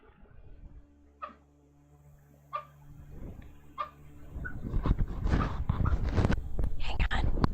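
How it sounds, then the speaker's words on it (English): A few soft, muffled little woofs from a dog barking in its sleep come at intervals in a quiet room, followed by sniffling and rustling close by. "Oh, she's puppy barking in her sleep."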